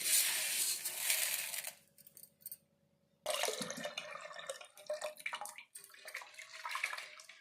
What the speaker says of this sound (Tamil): நம்ம நல்லா வாஷ் பண்ணி எடுத்துக்கலாம்